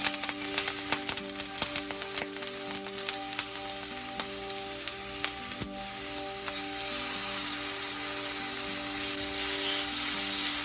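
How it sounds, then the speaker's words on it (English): Loud, continuous sizzling of chicken frying on a hot indoor grill, crackling steadily with a faint tonal hum underneath. "You wanna hear that sizzle, that's very important."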